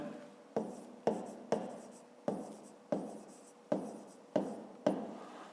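A pen scratches across paper in about nine short, evenly spaced strokes, each a quick rasp that fades, close and quiet, as a 5th-grade math exercise is worked out.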